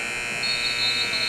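Electronic buzzer sounding at the end of the half in a high school boys basketball game in a gym, a loud sustained tonal drone held steadily throughout.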